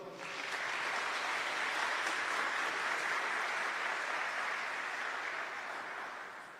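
Sustained applause from a church or lecture audience, a dense steady clatter of clapping that swells in quickly and holds loud throughout before tapering slightly at the end, with no talking over it.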